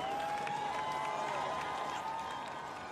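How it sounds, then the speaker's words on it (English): Crowd cheering and applause at the Formula E podium in Monte Carlo, Monaco, a steady roar of many voices and clapping held throughout, with a faint tonal whine running beneath. "I think he gets the biggest cheer of them all."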